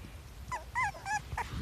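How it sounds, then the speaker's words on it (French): Newborn puppies let out a few short, high, thin yips and whimpery barks in quick succession, close by and fairly quiet, with soft low rustling underneath. "Donc ils commencent à faire leur premier petit aboiement"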